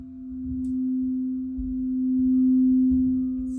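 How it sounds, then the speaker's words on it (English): A steady root chakra sine tone pitched at C4, around 250 hertz, hums evenly and continuously on its own, with faint low rumbles beneath it. "That plays at a C4 and about the 250-ish range, 250 hertz range."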